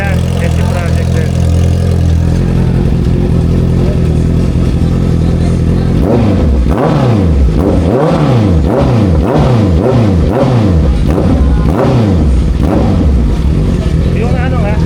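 A Honda CBR650R fitted with an SC Project exhaust idles, then revs repeatedly in sharp, loud blips that rise and fall in quick succession before settling back to a steady idle close by.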